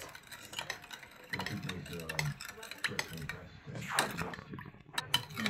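Spoon scraping and clinking as a sugared mixture is stirred by hand in a bowl, irregular close scrapes and taps with faint background voices.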